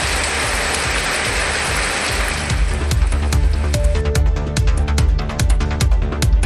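Light drizzling rain falls steadily in Rasipuram, a dense continuous hiss with scattered drop patters that grows more distinct midway, close and fairly loud throughout.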